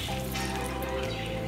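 About half a cup of water poured into spinach in a pressure cooker for Tamil keerai masiyal, a brief, close, steady liquid pour lasting just over a second.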